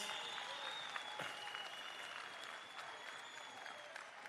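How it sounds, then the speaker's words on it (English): Delegates at a provincial political party conference clap together, a broad continuous applause from a large hall heard at a low, distant-sounding level. "Comrade Colin, can you rise so that the delegates can give you a nice round of applause?"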